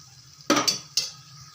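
Stirring green chillies into fish head curry in a pan, a couple of close metal scrapes and clinks of a spoon against the pan, short and distinct over a quiet background.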